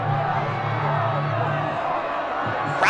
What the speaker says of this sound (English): Crowd getting loud here at Doyle Field.